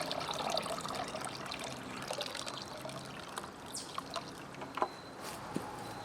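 About four gallons of water poured into a tub to make bath slime, a steady rushing trickle that fades toward the end with a few small splashes and drips.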